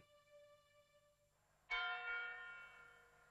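A clock tower bell gives one loud, clear strike that rings on and slowly fades, after the faint hum of an earlier chime dies away.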